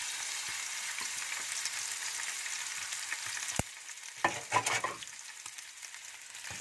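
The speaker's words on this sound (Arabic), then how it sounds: "نشوحها كده في السمنه اهو" Chicken pieces sizzle loudly in hot ghee in a pan for Nagrasco, a constant close frying hiss broken by a sharp clack and a few scraping stirs of a utensil.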